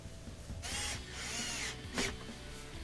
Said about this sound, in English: I'm just going to reinstall them, tighten up those screws